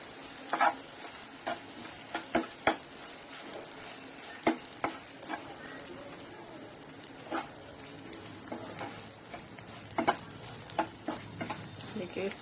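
Panjiri mixture stirred in a hot pan, a soft steady sizzle broken by scattered scraping clicks of the spoon against the pan, close and fairly quiet.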